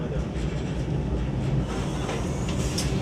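Low, steady rumble of a Vande Bharat Express rolling out of Bhubaneswar station, heard from inside the moving train, with faint rattles and a few brief higher squeaks toward the end.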